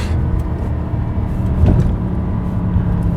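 A BMW E90 M3 with DCT gearbox pulls hard toward the red line, a loud low engine roar with a rising surge around the middle, heard from inside the car.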